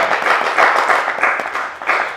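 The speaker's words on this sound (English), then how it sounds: "golf clap." Polite golf clap, steady light handclapping from a small group, moderately close and even in rhythm, with no talking over it.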